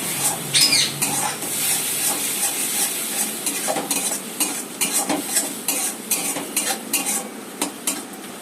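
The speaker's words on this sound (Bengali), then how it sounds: "সসটা দিয়ে এই যে হালকা একটু নেড়ে নিচ্ছি" Pasta being stirred with sauce in a pan, repeated close scraping and clinking of a utensil against the metal in an uneven rhythm over a soft frying hiss, no talking.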